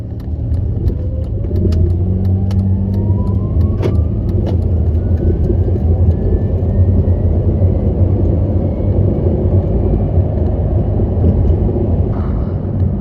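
A car driving after a Lubegard or Lucas transmission fix additive, with a steady loud low engine rumble throughout, a rising whine suggesting acceleration, and no one talking.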